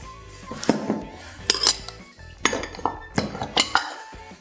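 A metal baking mold for orange sandwich bread is handled and set down in a kitchen, giving close, sharp metallic clanks and clinks in irregular bursts with short quiet gaps between.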